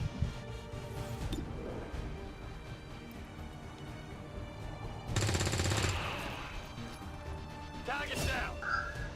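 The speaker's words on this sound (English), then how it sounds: "So we're going to go ahead and take a second shot and see if we can kill a second one." A rifle shot rings out in the turn-based strategy game XCOM 2: War of the Chosen, a single loud broadband crack near the middle standing out over a steady game music bed, with another sharp burst near the end.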